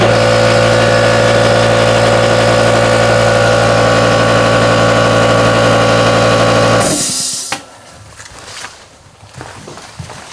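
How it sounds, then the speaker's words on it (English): An air compressor for a pneumatic brad nailer runs with a loud, steady mechanical drone for about seven seconds, then cuts off, leaving faint clicks and room noise. "So we go ahead and turn on the compressor."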